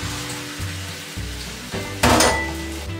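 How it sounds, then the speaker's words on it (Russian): A steady sizzle of a thin omelette made with egg and water frying in a pan, with a low hum underneath and a brief louder burst of crackling near the end. "И жарим тонюсенький яичко."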